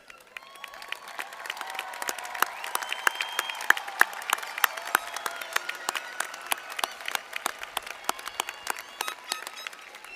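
Graduates at the Hallsville High School 2025 graduation ceremony applaud their standing parents and guardians. Many sharp, scattered claps merge into a sustained, moderately distant round of applause in a large hall, with no talking over it.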